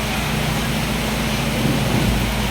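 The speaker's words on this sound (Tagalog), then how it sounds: "bumalasas na naman po ang ulan" Heavy storm rain pouring at a transport terminal during a typhoon, a constant loud wash of noise with a low rumble beneath, steady throughout with no break.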